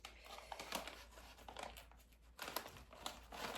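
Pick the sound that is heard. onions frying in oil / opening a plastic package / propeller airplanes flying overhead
opening a plastic package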